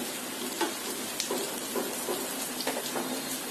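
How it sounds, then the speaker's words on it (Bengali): A cup of thickly cut chopped onion fries in hot oil, giving a steady close hiss with scattered pops and crackles throughout, no voices. "পেঁয়াজটাকে এখন আমি ভেজে নিব।"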